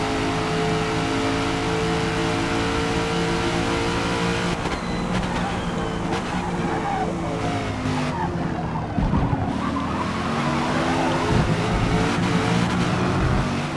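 A Chevelle Super Sport race car in a V8 racing game roars with a steady engine drone, then brakes hard with tire squeal and skidding, the engine revving on throughout.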